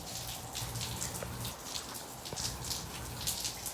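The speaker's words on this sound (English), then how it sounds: "It's raining!" Rain falls steadily in a soft, even hiss of patter and scattered drops, faint and continuous, with no voices.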